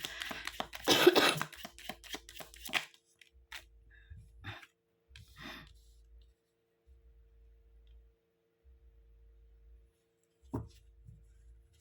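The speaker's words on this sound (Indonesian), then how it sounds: "Karena saya pun batuk nih" A burst of dense coughing early on, followed by a few fainter, scattered coughs and throat sounds separated by quiet stretches.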